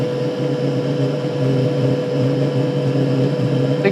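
A diesel heater burning petrol runs with a steady, even combustion hum and whir, close and continuous, with no surging or uneven pulses.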